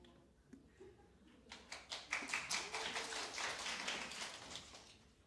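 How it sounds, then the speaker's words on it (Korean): A church congregation claps in a swelling burst of hand claps that builds over a couple of seconds and then holds steady, moderately close. "큰 박수로 우리 大きな拍手で"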